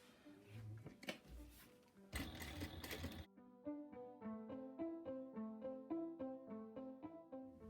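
A sewing machine basting fabric layers together, with rapid, evenly spaced mechanical stitching clicks close by after a few louder handling bumps and rustles, quiet overall.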